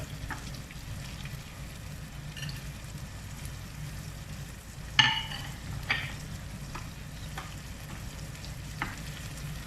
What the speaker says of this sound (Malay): kita masukkan juga jintan manis, ya, untuk menaikkan bau dia. Okey, kita tumis dia.